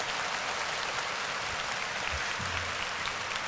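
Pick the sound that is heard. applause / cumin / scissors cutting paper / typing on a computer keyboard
applause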